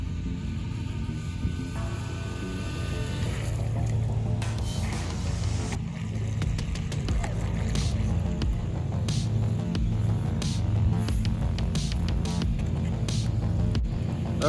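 A small battery-powered RC speedboat, an HBX Surge X03 running on a 2S pack with a GPS unit mounted on top, hums steadily at moderate distance for the whole stretch, a continuous electric motor drone over water.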